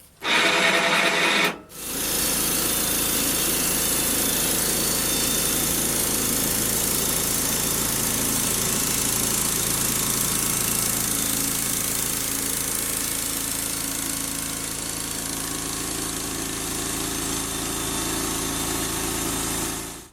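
A bandsaw mill runs steadily throughout with a continuous loud engine drone, a brief dip near the start before it resumes, then carries on at an even level as the mill cycles down to cut the next board.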